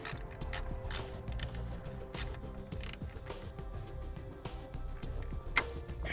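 Wrench tightening a nut onto a stud on an electric trailer brake, a steady run of quick ratcheting clicks up close with faint mechanical rattle underneath.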